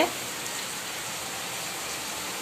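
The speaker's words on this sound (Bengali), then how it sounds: "যেই দেখেছি যে বৃষ্টি হচ্ছে" Steady rain falls in a continuous even hiss, close and moderately loud, with no voices over it.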